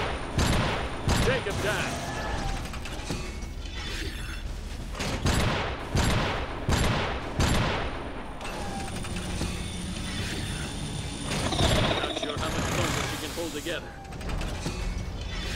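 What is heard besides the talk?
gunfire in the video game Iron Brigade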